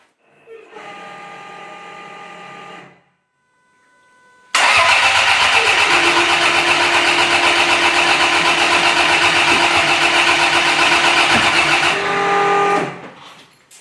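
A turbocharged four-wheel-drive Austin Mini GT-Four engine cranks on a first start attempt, close and loud. A short whirring crank is followed by a pause, then a long, steady, roaring crank of about seven seconds that never catches.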